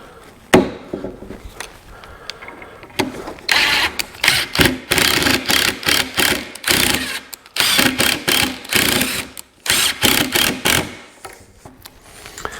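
A power drill drives 1.5 inch pocket hole screws into wood for a set of bow rockers, heard as a run of short, loud whirring bursts with brief gaps between them and a few clacks near the start.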